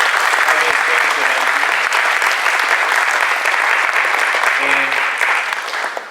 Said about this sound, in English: Let's give them a round of applause for bringing this experience to